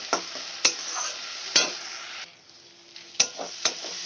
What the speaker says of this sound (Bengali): পেঁয়াজের পেস্টটা আমি দিয়ে দেব দিয়ে ভালো করে কষিয়ে নেব